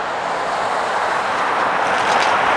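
A New York, Susquehanna and Western freight train rolling past on the Utica branch, a loud, steady broadband rush of wheels and rail noise close by, holding constant and swelling slightly toward the end.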